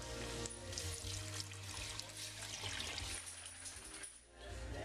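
Four cups of water pour steadily into a cooking pot holding red kidney beans, salt and pepper, a continuous close splashing rush with no talk.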